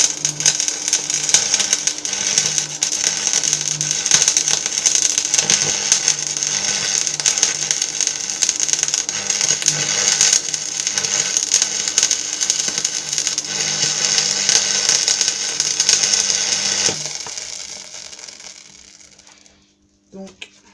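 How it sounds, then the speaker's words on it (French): Arc welding of steel using an aluminium electrode, laying a bead with the remaining stub: a steady dense crackling hiss that runs continuously and close for about seventeen seconds, then stops and fades out. "Je vais refaire un cordon avec le reste d'électrode."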